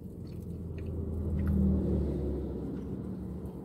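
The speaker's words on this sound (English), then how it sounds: "if you see cars passing" A car passing on the road outside a parked vehicle, a low rumbling engine swell that builds and fades over a few seconds, fairly faint.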